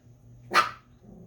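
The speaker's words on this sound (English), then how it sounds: "She's barking at my neighbor." A single sharp dog bark, close and fairly loud, against a quiet background.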